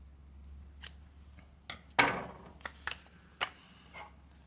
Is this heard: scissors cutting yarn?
yes